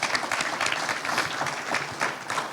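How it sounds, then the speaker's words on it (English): Audience applause for students at an arts and culture summit at Stockton University in Atlantic City, a dense, even clapping from a sizable crowd lasting the whole stretch. "definitely another applause to the students"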